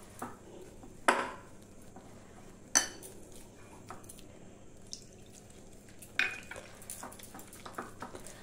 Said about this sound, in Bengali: আর ভালো করে বেসনটা ফেটাতে হবে, তাহলে চপটা খুব ভালো করে ফুলবে